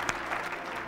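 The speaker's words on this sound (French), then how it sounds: "J'aimerais que vous les applaudissiez très fort" A studio audience applauds at a televised home-renovation show set in Charente-Maritime, a dense, steady wash of clapping hands with a brief sharper burst early on, alone without any talk.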